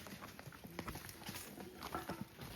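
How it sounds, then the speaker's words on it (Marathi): A bullock walks close by, its hooves landing in a soft, irregular clip-clop over faint background noise. "बैल आलं वासावर"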